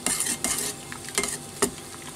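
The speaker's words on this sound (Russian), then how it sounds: "перемешиваю" Irregular scraping and clinking of a utensil stirring boiling water with vinegar in a pot, over a soft bubbling hiss, with several distinct strokes.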